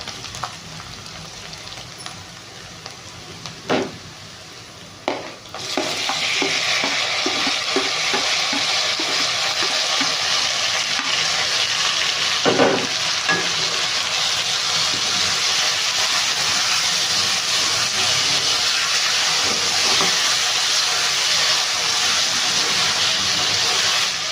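Tomatoes tipped into a hot pan for egg masala curry: a few metal clinks, then a loud, steady sizzle that jumps up and holds without letting up, with no talking.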